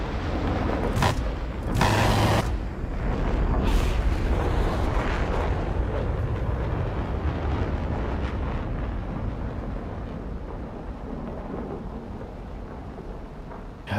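Deep rumbling missile explosions in a video game, with sharp loud bursts early on and then a long rolling roar that slowly fades.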